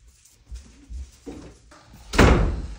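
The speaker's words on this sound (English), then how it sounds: "Door is opening by itself. I just closed it." A household door swings shut with a loud, close thud, preceded by a few softer knocks and shuffling sounds in a quiet room.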